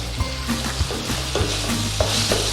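Tomatoes cooking in a covered pan, a constant close sizzle and bubbling with faint periodic taps, steady throughout.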